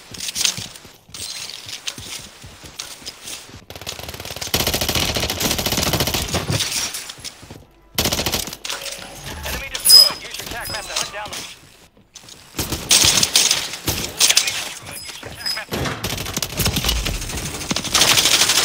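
Rapid automatic gunfire in a shooter video game, bursts of loud clattering shots separated by short pauses, with a player's voice talking in places between the volleys.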